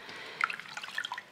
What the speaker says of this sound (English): fold it over on itself and rub it a little bit, even underneath the water